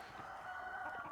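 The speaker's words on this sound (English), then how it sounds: "I like that rooster. He the OG." A rooster crows outdoors, faint and somewhat distant, in one sustained call of just over a second that carries over steady background noise.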